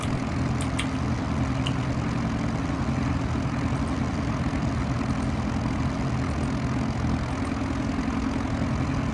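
Steady aircraft engine drone from X-Plane 11 right after the left engine starts, a propeller aircraft idling outside the terminal at Bardufoss, with a constant low rumble and even loudness throughout.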